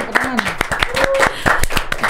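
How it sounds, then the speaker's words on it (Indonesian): A small audience claps for a guest on a podcast, a quick run of sharp, evenly spaced claps mixed with overlapping talk. "Tepuk tangan dong Bu Lala."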